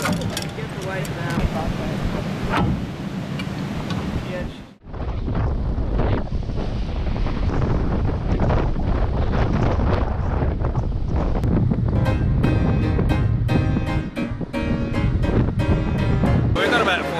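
Strong wind howls at sea aboard the tall ship James Craig, blowing around 40 knots, with heavy broadband roar and surf wash; the gusting noise runs loud and steady after a brief drop, with people talking beneath it.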